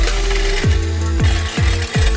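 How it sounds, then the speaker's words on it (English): Drill boring mounting holes through steel for the frame and motor mounts on a 1937 Oldsmobile custom build, a loud continuous whir with four distinct pitch drops as the bit bites or slows. "So now let's drill the holes for the mounting for the frame and for the motor"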